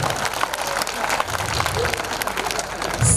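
An audience claps throughout at a Hindi poetry recital, a kavi sammelan, in a busy, continuous burst. Voices and cheers mingle with the applause, which swells again at the very end.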